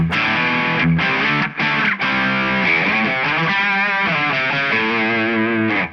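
A distorted electric guitar with effects bypassed, played through an Eventide H90, plays a continuous riff with sustained chords and a few brief breaks, loud and close.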